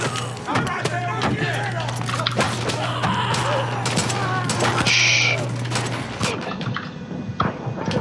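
Gunfire in Far Cry 5: a dense burst of rapid shots and thuds over several seconds, loud and close, with a steady engine-like hum beneath and a person talking over it.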